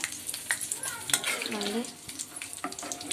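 Fried peanuts and chana dal being stirred into cooked rice for pulihora, with scraping spoon strokes, light sizzle and clinks in a home kitchen, and a faint voice in the background.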